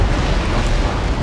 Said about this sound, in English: Ah, broadside!